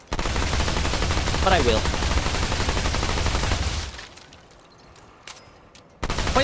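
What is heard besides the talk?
SMG gunfire in Remnant 2 video game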